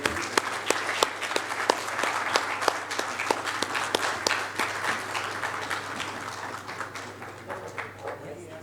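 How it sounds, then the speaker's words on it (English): An audience at a summit's inaugural ceremony in GIFT City, Gandhinagar, applauds steadily, with sharp individual claps standing out above the dense clapping throughout. "A big round of applause for all the authors who have."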